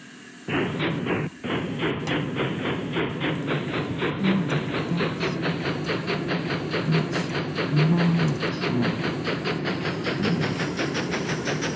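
A train runs with a rhythmic chuffing beat and hiss, steady repeated pulses that quicken slightly as it keeps moving, loud and close with no talking over it.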